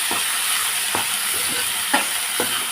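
Chopped tomatoes cook with cauliflower and potato curry in a pan, a soft steady sizzle broken by a few light scraping stirs at intervals.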